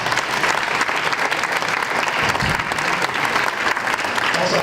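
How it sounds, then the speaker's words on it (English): Sustained audience applause for the companies presenting at a blockchain pitch competition, dense, steady clapping from a large crowd filling the whole stretch at an even loudness. "can we quickly give a real big hand applause for all the presenting companies?"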